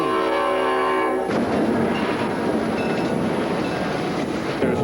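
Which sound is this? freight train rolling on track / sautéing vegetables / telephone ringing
freight train rolling on track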